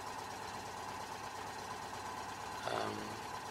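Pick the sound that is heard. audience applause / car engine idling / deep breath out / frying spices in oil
car engine idling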